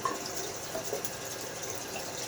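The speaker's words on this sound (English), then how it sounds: "Rinsing out my Roger Quintero lather bowl here" Water runs steadily from a tap while a 3D-printed shaving lather bowl is rinsed out, giving a soft continuous splashing hiss throughout, close and fairly quiet.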